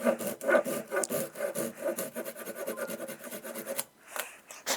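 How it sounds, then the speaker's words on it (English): A dried wooden shim on a one-board woodworking project is cut off, giving a steady run of close, rhythmic rasping saw strokes across the grain, with a brief pause near the end before the strokes resume. "Shim's pretty dry now, so we're gonna cut that off as well."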